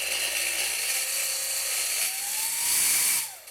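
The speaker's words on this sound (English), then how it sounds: "So we're going to turn it on, start slow," A vintage Braun Multipractic MR 72 hand blender with its whisk attachment runs steadily with a high, whining motor hum, its pitch rising as the speed is raised, then cutting off at the end.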